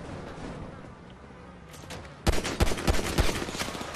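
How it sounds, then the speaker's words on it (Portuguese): Machine gun fire from a GTA V Online deathmatch, starting mid-clip as a burst of loud, sharp, rapid shots over a low game background. "o gajo está a disparar de metralhadora"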